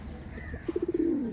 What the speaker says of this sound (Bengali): পাগল করে দিবে দাদা পুরো পায়রা।